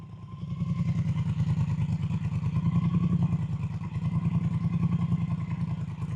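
A 1200cc motorcycle engine on a lightweight bike idles steadily with a fast, lumpy rhythmic pulse, close and fairly loud, no talking.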